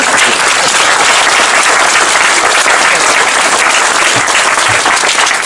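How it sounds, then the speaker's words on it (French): Loud, sustained applause from a rally audience fills the whole stretch, a dense even wash of clapping with scattered crowd noise at a political gathering in Voves. "je vous demande de vous applaudir"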